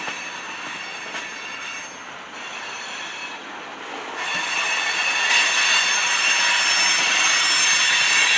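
A CSX coal train with DPU locomotive power rolls past in Grafton, West Virginia, a loud, steady roar of wheels and cars with faint rail squeal and a clatter that swells louder partway through, no voices.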